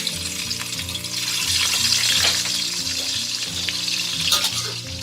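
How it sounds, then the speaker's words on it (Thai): Salted fish frying in a little leftover pork fat in a pan, a steady close sizzle and crackle lasting throughout with faint clinks of a utensil. "แล้วเราก็มาทอดปลาเค็มเลยนะ"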